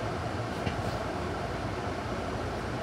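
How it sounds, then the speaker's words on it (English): Glasgow subway train rolling through an underground tunnel, a dense steady rumble and rattle of wheels and carriage heard from inside the car. "do you think these trains ever go above ground?"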